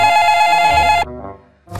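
A telephone in an animated cartoon rings loudly with a bright, sustained bell tone that stops abruptly, followed by a short pause and a brief thump.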